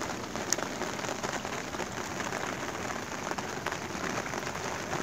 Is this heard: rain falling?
yes